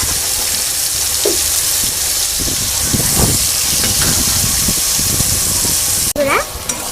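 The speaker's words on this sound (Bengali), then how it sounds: "এই তেলটার মধ্যেই দিয়ে দেবো সোয়াবিনগুলো" Boiled soybeans fry in hot oil in a pan, giving a steady loud sizzle with some stirring scrapes and a brief clatter near the end.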